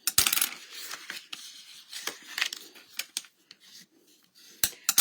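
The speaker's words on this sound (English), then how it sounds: "Now I'm going to take my bone folder and I am just going to burnish all of my edges." Paper box edges are burnished with a bone folder, producing a series of quiet, close, dry scraping and rubbing strokes in irregular bursts with short pauses between them.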